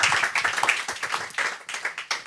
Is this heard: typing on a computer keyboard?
no